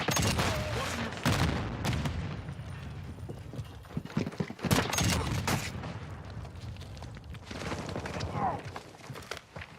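Rapid gunfire and bursts of automatic weapons in the video game Call of Duty Modern Warfare II, dense and loud with explosions mixed in, over a continuous rumble.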